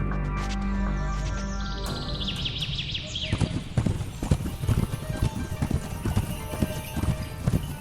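Horse hooves clip-clop steadily as a king rides out toward the forest to hunt, the irregular footfalls growing louder and denser after a few seconds, with faint bird chirps and a brief whinny in the background.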